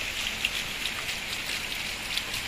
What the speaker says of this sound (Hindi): देखिए कितनी तेज़ बारिश हो रही है, रात से